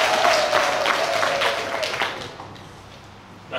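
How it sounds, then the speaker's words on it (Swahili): At a meeting of small-scale miners and their companies, the audience breaks into applause that starts strong with scattered sharp claps, then thins and fades toward the end. "niwapongeze sana, hongereni sana, mjipigie makofi."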